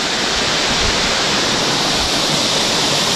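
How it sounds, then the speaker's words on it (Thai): The third tier of a mountain waterfall roars in a loud, dense, unbroken rush of falling water, heard close up and alone. "ส่วนชั้นที่3ของน้ำตกนะครับ"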